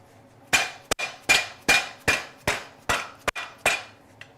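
A hammer pounds a shoe orthotic in a cobbler's workshop, nine sharp, ringing blows falling in a steady rhythm, loud and close with no talking.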